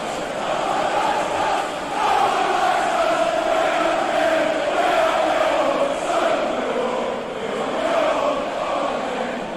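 Football ultras crowd chanting in a packed stadium, a dense mass of voices rising and falling in a sustained rhythmic chant, loud and continuous throughout with no individual talk.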